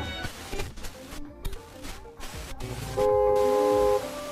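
A car horn blares in a steady, loud held tone for about a second near the end, amid road traffic noise and other passing vehicles on a Slovak road or motorway.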